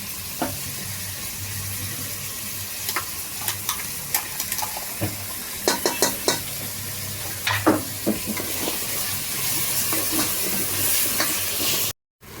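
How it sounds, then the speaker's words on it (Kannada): Ground masala paste fries in a kadai with a steady low sizzle. A spoon stirs it, adding bursts of scraping and tapping throughout, and the sound cuts out briefly at the end. "ಒಂದು ಕಡಾಯಿ ಇಟ್ಕೊಂಡಿದ್ದೀನಿ, ಇದರಲ್ಲೆಲ್ಲ ಇದನ್ನು ಹಾಕಿ ಫ್ರೈ ಮಾಡ್ಕೊಳ್ಬೇಕು"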